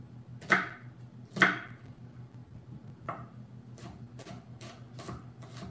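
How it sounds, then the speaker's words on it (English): A knife cuts through a shallot on a cutting board: two sharp, crisp chops near the start, then a run of lighter, quicker taps, close and fairly quiet over a low background hum. "then we just cut these down to size. Let's use the whole shallot"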